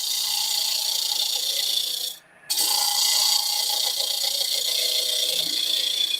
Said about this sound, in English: I'm just going to scrape this down, big diameter to small.